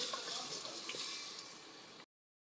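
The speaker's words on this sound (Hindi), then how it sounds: "अब इसमें मैं इतना पानी ऐड करूँगी कि जिसमें गोश्त गल भी जाए" Water pours steadily into mutton cooking in a pressure cooker pot, a continuous hissing splash for about two seconds that cuts off abruptly, with no talking.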